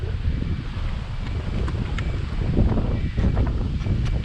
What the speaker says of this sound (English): I cannot believe the wind is whipping the wrong way.